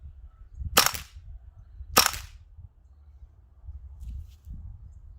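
A WellFire AK74 gas blowback airsoft rifle fires two sharp, loud cracks about a second apart, each with a brief hiss of gas, over quiet room background with faint handling noises afterward.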